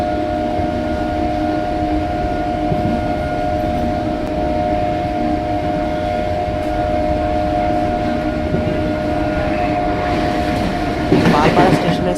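A Krishnanagar galloping local train runs at speed, giving a steady, loud rolling roar with a sustained tonal hum. Wheels clatter on the rails, and a sharper burst of rattling comes near the end.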